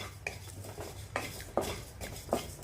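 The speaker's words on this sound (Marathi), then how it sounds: "धने, जिरं, शहाजिरं हे हलका असते. सोप मंद आचेवर आपल्याला 4-5 मिनटं भाजून घ्यायचे" Coriander seeds, cumin, caraway and fennel dry-roast in a pan over low heat. A utensil scrapes and clinks against the metal in a few separate strokes over a faint background hiss.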